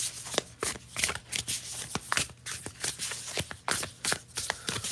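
Tarot deck from an unboxing being shuffled and handled up close, a quick run of crisp card riffles and soft slaps in an irregular rhythm, quiet and intimate with no talking.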